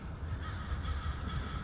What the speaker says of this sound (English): Oh, crows too.